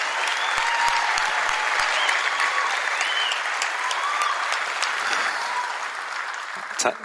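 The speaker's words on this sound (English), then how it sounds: "Thank you very much for applause." Sustained applause fills a hall as Sergei Fedorov is inducted into the Michigan Sports Hall of Fame in Detroit, a dense crowd of hands clapping steadily with a few sharp knocks and faint voices, easing near the end.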